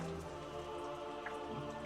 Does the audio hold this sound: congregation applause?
no